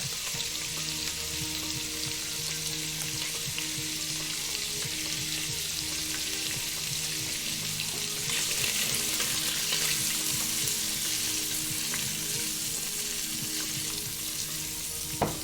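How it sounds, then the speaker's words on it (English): Cajun sausage and rice frying in a one-pot skillet, with a steady, even sizzle and faint stirring scrapes running throughout, no voices. "Just give that another little stir"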